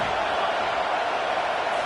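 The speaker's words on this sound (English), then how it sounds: "Listen to this crowd just shaking the girders of this place" A big stadium crowd at a college football game between Arizona and USC roars without a break, a loud and steady wash of cheering meant to help the home defense.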